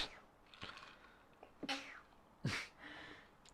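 A single sharp sneeze bursts out against a quiet room, preceded by a couple of soft sniffs and small noises.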